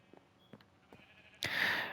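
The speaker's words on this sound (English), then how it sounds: "I hope these sheep aren't as loud for you as they are for me" Sheep bleat in the Minecraft video game, a few faint short calls spaced apart, then a sudden louder, brighter bleat up close at the end.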